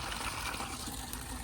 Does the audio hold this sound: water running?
yes